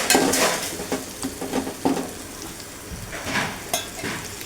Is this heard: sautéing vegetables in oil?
yes